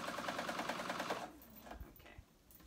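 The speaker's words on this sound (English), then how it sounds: "So we're sewing that on, making sure you're catching both fabrics just as you would when you're serging." Sewing machine stitching a flounce onto a tee, a rapid steady mechanical chatter that runs close and fairly loud for about a second before cutting out, leaving soft handling and fabric noises.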